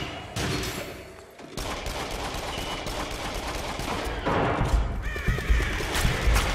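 Guns fire in the VR horror shooter Until Dawn: Rush of Blood as rapid, dense volleys of close, loud shots, with a short lull early on before the gunfire picks up again and keeps going.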